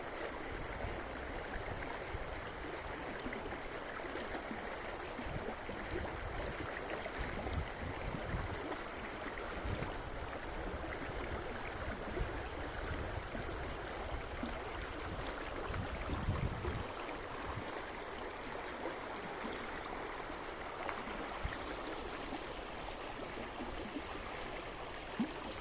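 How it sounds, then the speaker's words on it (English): A river flows in a steady, broad rush of water with a constant, even wash and no other sounds, heard at moderate distance for the whole stretch. "Close your eyes and listen the sound of the river, music of the river."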